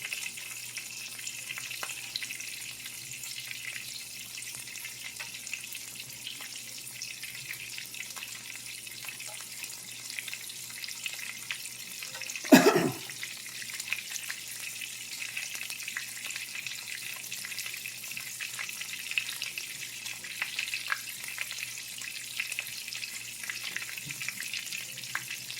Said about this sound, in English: Otherwise, I'll be cooking one.